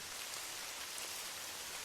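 Evening rain falling on old stone streets in Paris, a dense, even hiss of drops, steady and soft with no other sounds.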